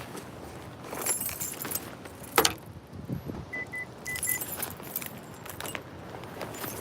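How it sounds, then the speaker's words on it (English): Car keys jangle in short bursts beside a parked car in the cold, with a sharp clatter partway through and faint handling noises around it, no talking. "Let me get my keys."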